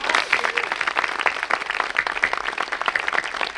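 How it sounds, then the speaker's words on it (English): Audience applauding Frances Fisher at an evening garden celebration of music and art: dense, steady clapping from a sizable crowd, loud and continuous throughout with no talking over it. "Can we please give her a round of applause?"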